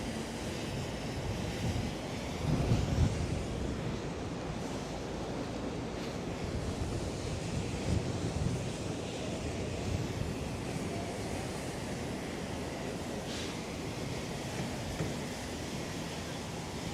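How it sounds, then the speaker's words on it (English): Loud, continuous wind buffeting the microphone outdoors in snowy Manhattan, a rough roaring rumble that stays strong throughout with occasional gustier bursts. "The wind is insane. It's very windy out here."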